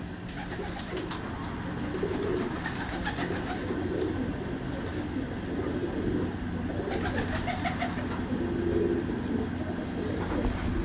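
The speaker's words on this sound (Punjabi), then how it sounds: "ਇਹ ਕਬੂਤਰ ਹੈਗਾ।" Pigeons coo in soft, repeated throaty calls, fairly close, over a steady background hum.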